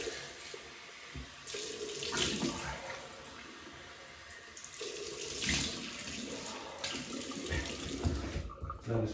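Running water from a tap rinses a Gillette Fat Handle Tech razor after shaving, a steady close hiss with splashing surges as the razor passes under the stream, no talk.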